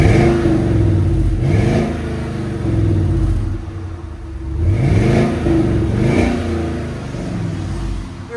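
A 2015 Chevy Suburban 5.3L V8 with true dual exhaust and Flowmaster 40 Series mufflers revs up several times in steady swells, its deep exhaust rumble rising and falling close by with no talking.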